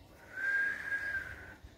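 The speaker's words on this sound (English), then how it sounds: "Oh yes, he can whistle." A young boy whistles one sustained, slightly wavering tone for about a second, fairly close and alone over quiet background.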